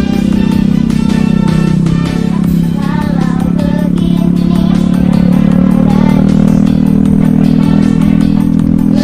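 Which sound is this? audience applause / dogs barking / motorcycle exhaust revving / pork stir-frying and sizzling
motorcycle exhaust revving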